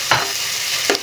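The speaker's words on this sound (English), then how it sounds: "So stir fry for a while." Peppers stir-fried in a hot pan sizzle steadily, with two brief scraping stirs of a utensil close up.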